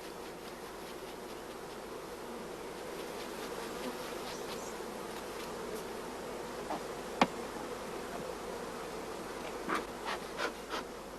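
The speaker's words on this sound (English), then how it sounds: "All bees are brushed from the other frames, and the frames are temporarily placed into an empty hive body" Honey bees buzz in a dense, continuous drone around hive frames being brushed and moved into an empty hive body, with a few sharp knocks of frames near the end.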